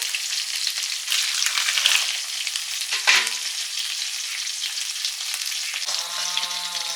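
Pieces of katla fish fry in hot oil in a pan, a continuous bright sizzle with occasional stirring scrapes and a brief clink near the end, close and fairly loud with no voices.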